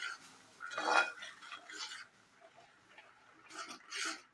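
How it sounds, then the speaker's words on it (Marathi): A paste of coconut and dry fruit is sautéed in ghee for varai kheer, heard as soft, intermittent spoon scrapes and clinks against the pan, quiet and close, with no voices. "ही अशी चांगली परतून घ्यायची आहे"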